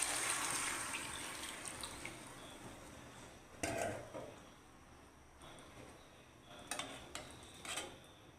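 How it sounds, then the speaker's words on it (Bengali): Water goes into a pan of frying fish, setting off a strong sizzling hiss that slowly fades. A few clinks from utensils and the pan follow. "এখন জল দিয়ে দিব, মাছের জল দিয়ে দিব"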